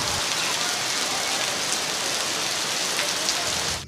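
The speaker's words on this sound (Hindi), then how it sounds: "हमने काफ़ी इंतज़ार किया कि बारिश रुक जाए, लेकिन बारिश नहीं रुकी" Steady, dense rain pours at the Murree hill station, a continuous loud hiss of drops hitting surfaces with no pauses and no voices throughout.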